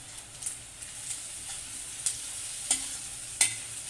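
Onion, garlic and spices sizzle steadily in hot oil while being stirred for a chicken curry, with a spoon scraping the pan in several sharp strokes.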